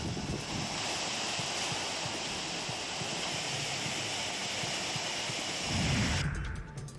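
Water overflows from Kalamba lake in Kolhapur during continuous rain, a steady broad rushing roar like surf or a spillway that holds throughout, with a brief surge near the end and no voices.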